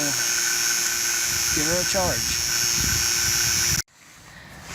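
An AC vacuum pump runs steadily on a refrigerant line, a loud continuous motorized whine with tonal hum, while a voice speaks over it; the sound cuts out abruptly near the end.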